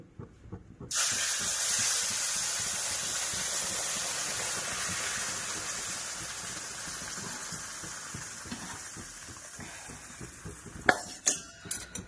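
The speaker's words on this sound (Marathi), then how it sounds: "हे उकळलेलं पाणी आहे ना लांबून टाकायचं" Boiled water poured from a height into roasted semolina in a pan, a loud sustained hiss and bubbling rush that fades slowly, followed by a few clanks of utensils.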